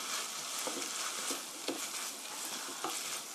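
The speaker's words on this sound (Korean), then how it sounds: "참기름 1 테이블 스푼 넣어주시고요. 자, 이제 고루 섞어주면 다 됐습니다." Burdock root and sesame oil sizzle steadily in a pan, with a soft, continuous frying hiss broken by repeated light scraping strokes as the mixture is stirred.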